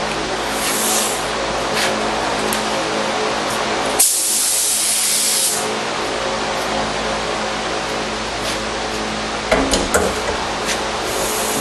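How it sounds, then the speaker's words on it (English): Primer sprays from an aerosol can, hissing in short bursts against steady background noise, with a few clunks and knocks near the end. "I will spray the remaining balance of that on that spot"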